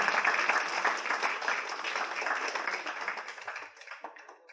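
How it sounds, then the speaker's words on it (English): A crowd at an E-Summit session claps for a speaker taking the podium. The applause is dense, close and steady and tapers off near the end. "let's have a huge round of applause for him"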